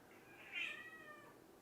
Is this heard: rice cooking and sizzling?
no